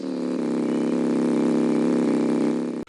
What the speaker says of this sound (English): I'm so sick of that car sound